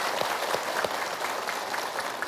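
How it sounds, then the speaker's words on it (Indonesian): Applause from parents in an audience at an Indonesian religious talk on raising children, an even, continuous patter of many hands clapping at moderate loudness with no talking over it. "boleh tepuk tangan dulu untuk bapak ibu"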